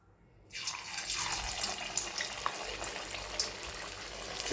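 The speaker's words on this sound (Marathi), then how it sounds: "आता आपण एक एक वडे टाकून घेऊया" Sabudana vadas are dropped one by one into hot oil over medium heat. A sudden sizzle starts after a moment of quiet and continues as a soft, even crackling hiss.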